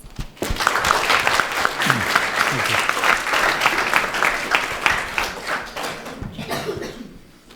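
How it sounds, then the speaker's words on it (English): Audience applause at a TEDx university talk, sustained steady clapping from a full room that swells quickly and runs throughout, with a cough or two and then tapers toward the end. "So let's give him a round of applause."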